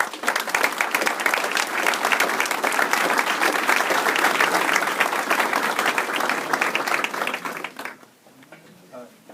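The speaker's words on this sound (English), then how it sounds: "Round of applause." A crowd at a military promotion ceremony breaks into sustained applause, dense and steady for several seconds before tapering off abruptly near the end, leaving faint background murmur.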